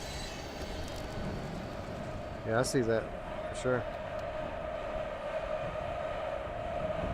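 A train car rolls in the video game Here They Lie, giving a steady rumbling rail drone with a brief burst of clattering wheels near the middle, while people talk over it.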